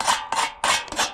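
Old gasket material being scraped off the burner assembly of a Rheem gas water heater, four quick rasping strokes in a rough rhythm, close and moderately loud.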